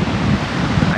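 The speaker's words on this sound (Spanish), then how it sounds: "Lástima un poco el viento acá en la zona de la costa." Strong coastal wind buffets the microphone on the beach at Necochea, Buenos Aires, a loud, steady roar with a broad rushing hiss and no voices.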